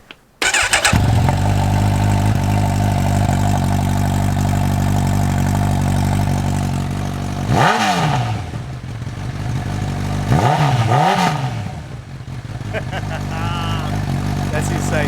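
Honda CB1000R 1000cc motorcycle with an Akrapovic exhaust and its dB killer removed, a loud close rumbling idle broken by two sharp throttle blips that rise and fall, with a voice briefly heard near the start.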